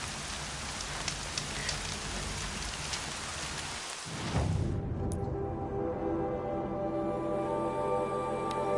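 Rain falling in the video game Horizon Zero Dawn: a dense, steady hiss for about four seconds, then it cuts abruptly to a calmer, quieter ambience with faint sustained tones.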